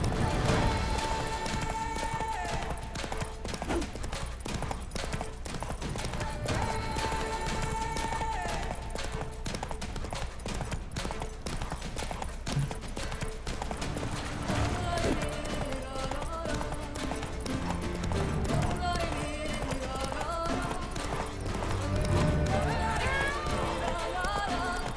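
Roach, the horse in The Witcher 3: Blood and Wine, gallops with steady rhythmic hoofbeats that run throughout, layered under game music and ambient sound effects.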